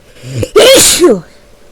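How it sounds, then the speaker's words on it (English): A single loud sneeze, preceded by a quick sharp inhale and ending in a short voiced tail, alone and close up. "I'm gonna sneeze here a second."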